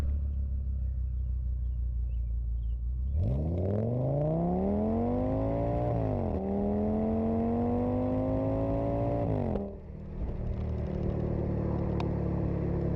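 An Audi C6 S6 V10 engine heard from the driver's seat revs up through two rising pulls with a shift between them, then eases off over a steady rumble, loud and close, with no talk.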